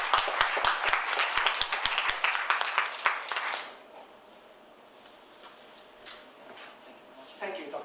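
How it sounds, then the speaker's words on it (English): Audience applause at the close of a panel session at an international conference, a burst of dense clapping for about three and a half seconds that quickly fades into quiet room tone with a few scattered late claps. "Please give him a warm applause."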